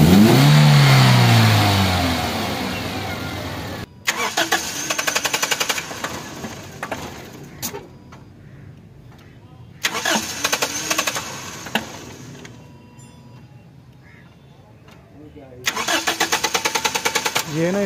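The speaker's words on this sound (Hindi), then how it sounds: "हल्का सा साउंड है पटाखों का आप सुन सकते हैं जिन्हें स्टार्ट करती है।" A car engine with a faulty camshaft position sensor starts and runs with bursts of rapid popping and crackling from the exhaust, separated by quieter stretches of low idle.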